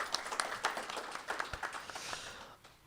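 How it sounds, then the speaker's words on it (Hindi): An audience at a Hindi poetry event gives a guest a round of applause: scattered, fairly close hand claps with individual sharp hits standing out, gradually thinning and fading toward the end. "जोरदार तालियां"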